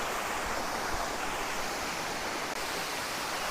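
The Maticdum Busay waterfall in Tandag City, Surigao del Sur, Philippines, roars as a continuous, dense rush of falling water, steady and enveloping with no voices.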